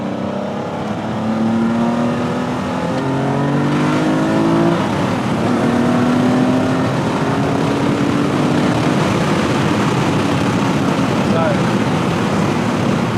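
A loud TVR T350C sports car engine, warming up, revs and roars with rising and falling pitch, continuous throughout, while voices talk over it; exhaust pops are not clearly distinguishable.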